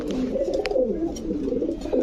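A pair of Jabra pigeons coo close by in low, throaty rolling phrases that run continuously and fairly loud.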